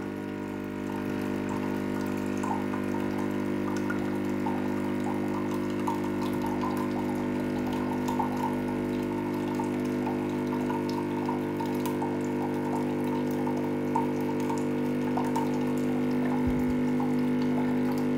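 A Dolce Gusto Genio S coffee machine streams and splashes water steadily during descaling over a low pump hum, continuous and moderately quiet throughout.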